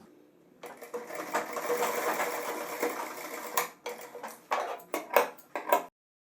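Sewing machine stitching a zipper into pants cut into pajama style, running in a steady continuous whir for several seconds, then breaking into short stop-start bursts near the end.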